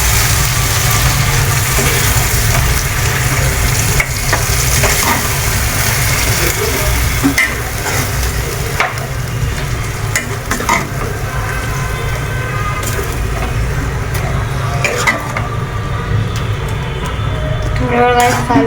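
Chicken is stirred in a hot pan, giving a loud, continuous sizzle and frying hiss broken by irregular scraping and clattering of a utensil against the pan.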